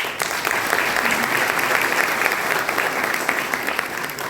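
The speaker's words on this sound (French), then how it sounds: "On les applaudit." A hall audience at a cultural symposium applauds, dense sustained clapping filling the room at close range, steady throughout and tapering slightly at the end.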